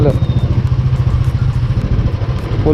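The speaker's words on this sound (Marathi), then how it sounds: "हां नाही नाही बाईक निघाल" A motorcycle engine runs close by with a steady, pulsing low throb that continues throughout on a trip near the Saputara hill station in Gujarat.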